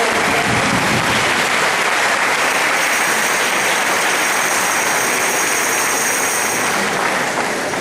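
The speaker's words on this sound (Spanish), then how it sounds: "Démosle un fuerte aplauso." Loud, sustained applause from a congregation at a church assembly in El Salvador, welcoming a Capuchin friar; a steady dense wash of clapping fills the whole stretch without a break.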